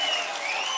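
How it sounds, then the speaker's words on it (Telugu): Crowd at a Telugu Desam political rally clapping in support of candidate Prasad Rao, a brief burst of massed applause with a tonal hum and background noise under it. "గట్టిగా ప్రసాదరావు గారిని గెలిపిస్తామని చప్పట్లు కొట్టి హర్షాన్ని ఆమోదాన్ని తెలియజేయండి"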